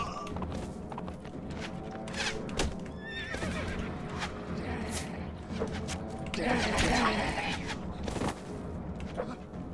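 Horse neighs and hooves in a video game battle: a whinny rises over clip-clopping footfalls, thuds and scattered combat noise, with someone talking intermittently through the busy mix.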